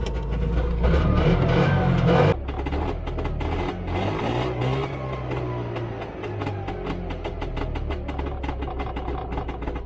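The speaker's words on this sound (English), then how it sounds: "as you can hear, this car just starts up the first time you try" A 1978 Lada Niva's engine turns over and catches on the first try, a loud cranking burst settling into a steady, close idle with a low even rumble.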